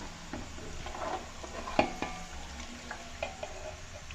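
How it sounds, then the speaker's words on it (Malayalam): Thin papaya chips are lifted from hot frying oil, a quiet bubbling sizzle with a few light clinks and scrapes of a slotted spoon against the pan. "അപ്പോൾ നമുക്കിതിനെ എണ്ണയിൽ നിന്ന് എടുക്കാം."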